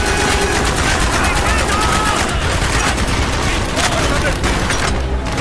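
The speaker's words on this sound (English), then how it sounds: "Feuer auf die!" Dense, loud automatic gunfire from soldiers in Call of Duty Black Ops during an Arctic Circle mission, rapid bursts overlapping continuously with shouted voices in the mix.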